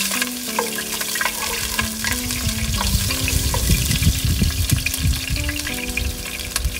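Ginger sliced into hot cooking oil, frying as the base for salmon sinigang with tamarind, a steady close crackling sizzle with popping bursts, with soft background music underneath.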